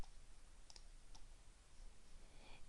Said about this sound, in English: I am right-clicking on that file and selecting Delete